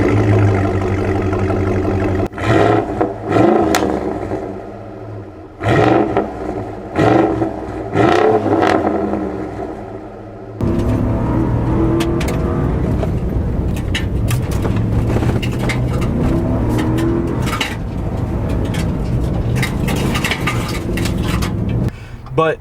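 A modified 2014 Ford SVT Raptor with a cold air intake and aftermarket exhaust roars loudly while driving, with rough engine surges and revving that drop out briefly in the first half, then a sustained, louder drone with gear changes.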